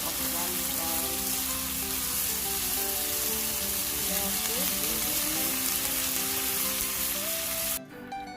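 Red cabbage with garlic being stirred and fried in a pan gives a loud, continuous sizzle with soft scraping throughout, then cuts off abruptly near the end.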